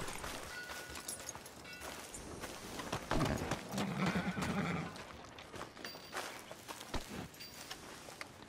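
Horse in Red Dead Redemption 2 whinnies loudly midway through, ringing over a steady bed of game ambience and hoof clip-clops on a town street.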